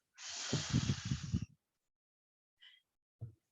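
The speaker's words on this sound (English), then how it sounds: "I go in through my nose, out through my mouth, but I imagine I'm blowing out through a straw" A person draws one long, deep, loud breath in through the nose and pushes it out through the mouth, close and alone, followed by two faint soft puffs.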